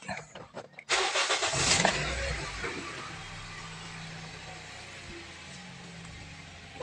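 A Toyota Vios with a lit check-engine light cranks briefly with a short stuttering whir, then catches and settles into a steady, slightly uneven rough idle, heard close by without talking.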